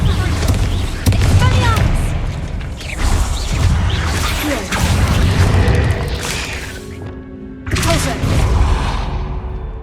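Booming blasts and crashes from the Confringo blasting spell in Hogwarts Legacy, several loud bursts spread across a busy stretch of game sound with a voice speaking over part of it.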